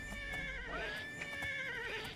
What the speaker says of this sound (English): The horse is trying to fight me.